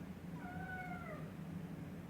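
A kitten gives a single short, faint meow with a rising then falling pitch, heard alone against a low indoor background hum.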